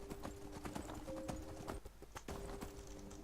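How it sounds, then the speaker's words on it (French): Horse hooves clip-clop steadily as a player mounts and rides a horse in the video game Skyrim, a close, rhythmic trotting patter with a faint whinny. "J'essaie de monter avec mon cheval."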